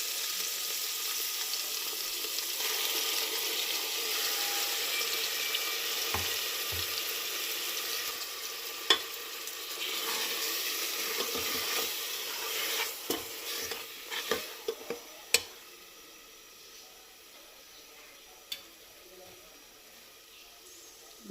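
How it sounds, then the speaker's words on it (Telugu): Tomatoes and capsicum fry in oil for a Karnataka-style avarekai sambar, with a constant sizzle broken by sharp spoon scrapes and knocks against the pan, growing quieter toward the end. "టమాటాలు ఫ్రై అవుతుండగా మనం క్యాప్సికమ్ వేసుకోవాలండి."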